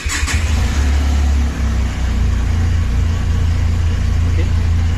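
A 2021 Benelli TRK 502x BS6 motorcycle engine runs close by at a steady, loud idle with a deep low rumble, a brief blip near the start, and a voice talking over it.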